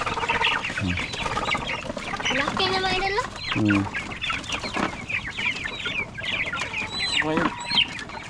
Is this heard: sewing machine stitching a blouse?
no